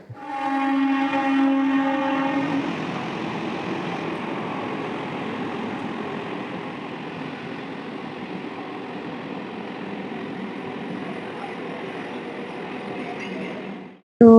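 A train passes close beside a railway line running next to a house, opening with a sustained horn blast and then a steady loud rumble and roar of wheels that lasts until an abrupt end.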